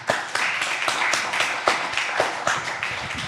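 An audience at a startup founder pitch event claps as the next founder comes up, a fairly sparse and uneven patter of hands with distinct individual claps standing out throughout.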